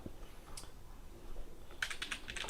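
Typing on a computer keyboard comes as a few quiet clicks early on, then a quick close run of keystrokes toward the end.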